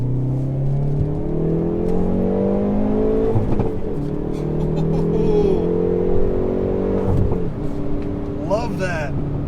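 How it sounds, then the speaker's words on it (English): A 2019 Hyundai Veloster N accelerates hard from inside the cabin, with engine tones climbing steadily through gear changes under a persistent droning hum and a brief shift break near the end. "Let's give this the proper acceleration."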